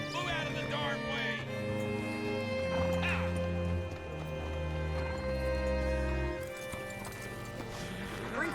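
A horse in the video game Red Dead Redemption 2 clops along at a walk and gives a brief whinny, its hoofbeats quiet under music and a few spoken lines.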